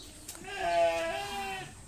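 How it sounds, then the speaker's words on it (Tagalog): A single sheep bleats once, close by, in a wavering, nasal cry lasting over a second against a quiet background. "Itong tupa ito, kung akong hawak, huwag na kayo gagalaw, ha?"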